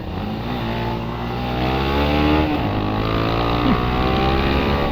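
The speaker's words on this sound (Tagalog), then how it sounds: "Tumabak sa orange na linya yung motor ko." A Honda Winner X motorcycle engine revs hard toward the redline while climbing a steep road at Mt. Samat. The tone is loud, close and continuous, and its pitch lifts slightly midway.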